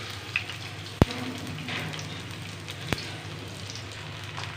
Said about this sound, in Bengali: এখন পেঁয়াজটাকে আমি একটু ব্রাউন করে ভেজে নেব